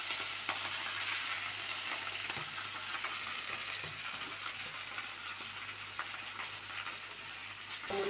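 Tender drumstick (moringa) leaves fry for a chutney, giving a steady, dense sizzle with scattered crackles and light stirring throughout, fairly close and even in level.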